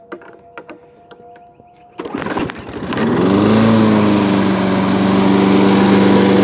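A Toro Recycler lawn mower with a swapped-in replacement engine starts up after a couple of seconds of light clicks. It then settles into a loud, steady, close running drone with a slight vibration, alone with no talk.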